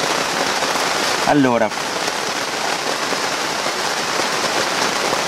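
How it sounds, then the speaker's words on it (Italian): Steady rain drums on a greenhouse roof and cover, a dense continuous patter close by, while someone briefly speaks over it. "ascoltare un po' il rumore della pioggia che ci accompagna anche su questi lavori della serra"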